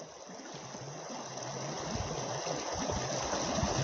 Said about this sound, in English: It's not my stomach, it's just a river. It's like making a nice gurgle, slush.